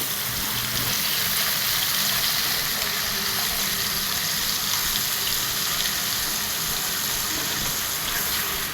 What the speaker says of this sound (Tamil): ஒரு புளி தண்ணி இதில் சேர்த்துக்கிறோம்.